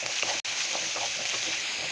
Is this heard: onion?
yes